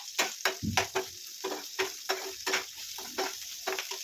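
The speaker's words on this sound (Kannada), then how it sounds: "ಅರ್ಧ ಬೇಯೋರ್ಗು ಫ್ರೈ ಮಾಡ್ಕೋಬೇಕಾಗುತ್ತೆ" Whole ginger, pepper, cinnamon and clove frying in a hot pan, with close, rhythmic stirring scrapes over a steady sizzle.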